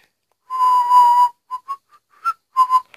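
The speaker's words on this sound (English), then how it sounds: "I'm so bad at whistling." A person whistles a single near-steady note for almost a second, then follows with a string of short, separate whistled chirps, all close and clear, with no talking.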